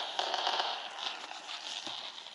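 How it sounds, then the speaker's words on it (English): Recorded fireworks crackle and pop played softly from a phone app for dog desensitization training, a faint continuous fizzing burst with scattered snaps. "Fireworks."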